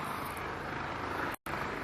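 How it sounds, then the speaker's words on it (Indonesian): A helicopter flies somewhere near a hospital in Sweden, a steady loud engine and rotor roar filling the air, with a brief dropout near the end. "Berisik banget sih nih, ada helikopter kayaknya."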